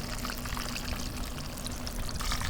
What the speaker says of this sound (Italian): Mettiamo la salsa di pomodoro.